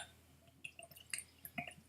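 The last drops of Lismore Cask Strength single malt Scotch whisky are shaken from the bottle into a Glencairn glass, a few faint, irregular drips and small splashes in a quiet room.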